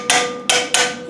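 Valves just fitted into a Land Rover 200Tdi cylinder head are tapped, giving three loud, close, ringing metallic knocks with short decaying tails.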